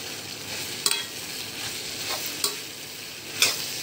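A spoon stirs soya chilli in a hot frying pan, giving a steady close sizzle with a few sharp scraping clinks against the pan, and no voices.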